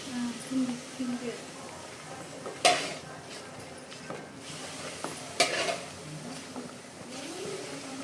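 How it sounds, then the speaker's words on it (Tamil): Hot oil is poured into gram flour for Mysore pak while the mixture is stirred in a pan, giving a soft sizzle with scraping spoon strokes and a couple of sharper clinks, quiet and close, with a faint voice in the background. "நல்லா சூடான சூடான எண்ணெயை எடுத்து இந்த மாவில் ஊற்றணும்"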